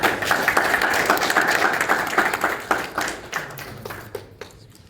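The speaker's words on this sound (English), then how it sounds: "Let's give him a round of applause." Audience applauding a presenter at a corporate presentation event, dense clapping from a roomful of people that thins out and fades toward the end.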